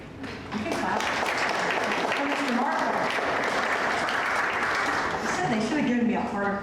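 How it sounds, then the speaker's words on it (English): Audience applause after a poem reading at a poetry day celebration of Asian-American poets, dense and steady clapping that fills the room for several seconds, with some voices mixed in and trailing off near the end. "You can clap."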